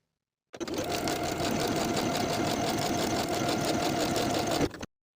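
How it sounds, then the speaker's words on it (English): A sewing machine sews a buttonhole into a denim skirt waistband in one continuous, loud, close run of rapid even stitching, starting and stopping abruptly. "Now I'll sew the buttonhole in place."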